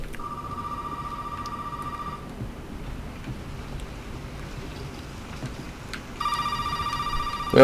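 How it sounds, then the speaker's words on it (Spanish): A telephone rings in the Resident Evil 7 Biohazard game, two electronic ring bursts separated by a pause, over a quiet rain-like background hiss with no voices. "Voy a contestar el teléfono, tengo terror."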